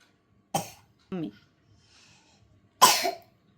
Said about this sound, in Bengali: আস্তে আস্তে খাও কাশি চলে আসছে তোমার